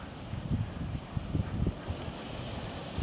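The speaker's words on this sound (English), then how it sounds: "Every once in a while you can see a wave splash over that low area." Waves washing over a low stretch of shore in the Exumas, a steady rushing surf with soft repeated splashes under constant wind noise, moderately distant and fairly faint.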